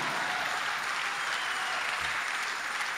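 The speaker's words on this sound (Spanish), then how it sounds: "no estoy oyendo el aplauso de Dios" Congregation applauding during a Spanish-language church service, a constant, even roar of clapping that fills the space without pause.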